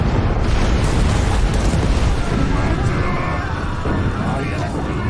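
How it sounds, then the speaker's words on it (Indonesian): Continuous roaring, rumbling blasts and booming explosions of cannons firing at a burning ship in a naval battle fill the scene, dense and loud with chaotic crackle, as in a heavy cannon bombardment. "Dia memerintahkan meriam menembak kapal depan yang terbakar"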